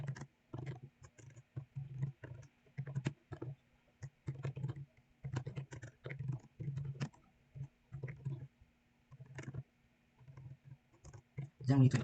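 Clicking keystrokes from typing code on a computer keyboard, coming in short irregular bursts with brief pauses, close and fairly quiet, under someone talking.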